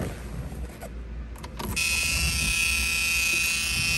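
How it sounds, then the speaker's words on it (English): Key-in-ignition warning buzzer of a 1979 Pontiac Trans Am, a steady high electronic buzz that starts partway through after some faint rustling and then holds loud and unbroken to the end. "Key buzzer works."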